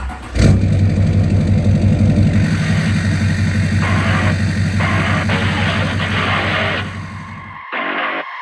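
A Duramax diesel engine in a GMT800 truck starts with a sharp burst and then runs loud and steady close by, with rising and falling revs before it cuts off near the end.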